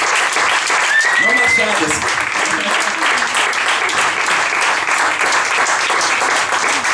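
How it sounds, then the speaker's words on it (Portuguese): An audience claps in sustained applause at a live show, loud and steady throughout, with a voice speaking briefly over it near the start. "Queria um grande aplauso."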